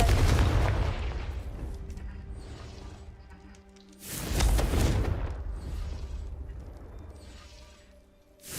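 Two booming blasts of the Confringo fire spell in Hogwarts Legacy, each a sudden loud burst that rumbles and slowly fades, several seconds apart.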